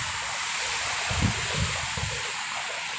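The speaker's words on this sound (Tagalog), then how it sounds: "Ayan, malaking alon no." Big ocean waves surge around a boat off Palawan in the Philippines, a constant rushing wash mixed with wind noise, with a few deeper swells thumping close by midway through.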